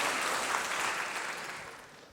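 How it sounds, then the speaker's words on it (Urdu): Audience applause from a crowd at a motivational talk, a dense wash of clapping that starts full and gradually thins and fades over about two seconds, with no voices over it. "یا اگر تالی بجا رہے ہیں اچھی بجائیں"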